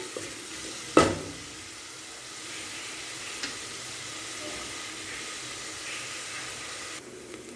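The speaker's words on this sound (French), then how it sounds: "je vais faire revenir l'oignon" An onion softens in a pan of hot fat, giving a steady low sizzle throughout, broken by a sharp utensil knock near the start.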